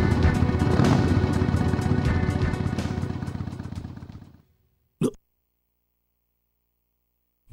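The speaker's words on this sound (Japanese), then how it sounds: "バイクのエンジン音。" A motorcycle engine in a Fist of the North Star video game revs loudly with rapid pulsing, then cuts off abruptly, followed by a short sharp noise and silence.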